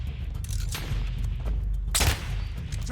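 Gunfire in the video game Warzone: a few sharp, bursty shots crack out over a steady low rumble, the loudest burst about two-thirds through, moderately loud with no talking.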